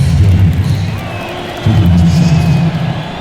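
Arena crowd noise from an NBA 2K19 Lakers vs Timberwolves game, a steady loud roar of cheering that dips briefly in the middle and then surges back for the rest.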